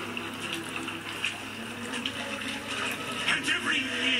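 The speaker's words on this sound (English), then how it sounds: "Oh yeah, there's water going down this and it's reflecting." Water trickling and running down a wall in BioShock Infinite, a steady wash of flowing sound with someone talking over it.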